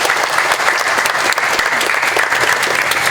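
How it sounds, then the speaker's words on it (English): Loud, dense applause from a large crowd at the 2025 Wausau Hmong Festival, steady and sustained throughout. "Another round of applause for the Congressman"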